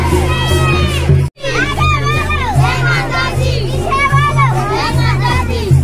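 Lively village crowd at a Lakshmi immersion procession, with many children shouting, calling and cheering close by in a dense, continuous din, broken by one brief gap.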